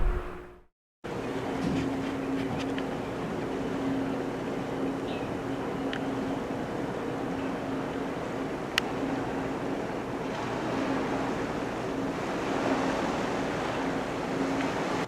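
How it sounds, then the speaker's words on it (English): A ship sailing away from Orne Harbor in Antarctica, heard as a steady, even rush of wind, water and engine rumble that continues unbroken after a brief cut at the start. "here we are sailing away from Orne Harbor"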